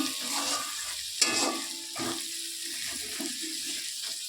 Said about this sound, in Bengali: দেখো আলু ভাজার পর মশলাও আমার কষানো হয়ে গেছে